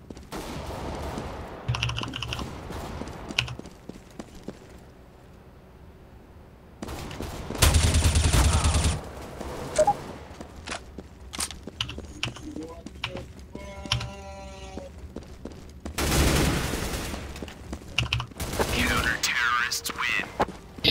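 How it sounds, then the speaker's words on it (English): Video game gunfire with a flashbang blast: sharp bursts of shots and loud noisy blasts over keyboard clatter, with excited voices talking during play. "Deploying flashbang."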